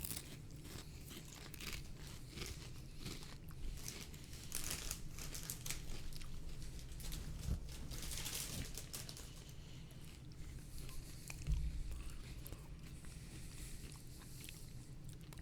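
Crunchy mustard-flavoured potato chips are chewed close to the mic, with irregular crisp crunches and bag crinkling against a faint low hum.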